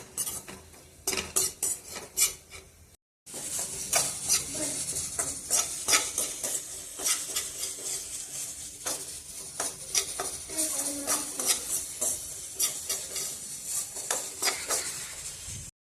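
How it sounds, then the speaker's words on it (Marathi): Grated dry coconut roasts in a pan until golden, with a metal spoon repeatedly scraping and clinking against the pan over a faint sizzle. A brief silence comes early, then steady stirring continues, with no talk. "हे खुस कुठलेलं खोबरं आहे असं मस्तपैकी भाजून घ्यायचं गोल्डन कलर येईपर्यंत"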